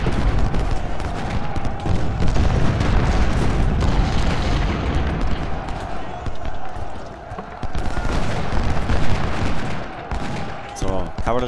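Cannon and artillery fire from a Civil War strategy game at the Battle of Iuka, a continuous dense barrage of booms and crackling shots with no pause, loud throughout.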